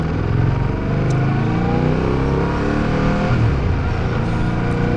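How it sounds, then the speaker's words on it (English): Fantic Caballero 700 parallel-twin motorcycle engine revving loudly and continuously up close, a dense throbbing exhaust note that swells and eases without a break. "For a parallel twin, it wants to rev as well."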